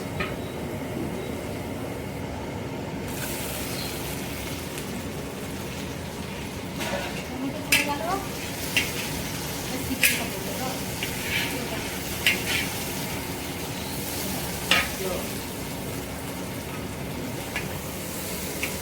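Marinated chicken and chopped tomato fry in a pan with a steady, fairly loud sizzle, broken by occasional sharp clicks and scrapes of a utensil against the pan.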